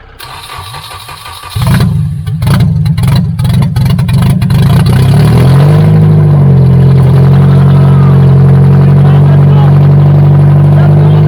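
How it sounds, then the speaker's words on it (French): An engine's first start with no exhaust downpipe fitted: a brief cranking, then it catches and runs very loud, with a steady deep drone and some revving. A voice talks over the cranking. "c'est parti pour le premier démarrage. Alors ça va être bruyant parce que j'ai pas mis l'échappement en bas, la descente."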